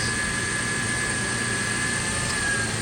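A Toyota FJ Cruiser's 4.0 liter V6 idling under an open hood, a steady close drone with a faint high whine running throughout, no talk.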